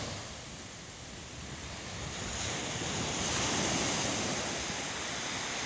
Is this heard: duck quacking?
no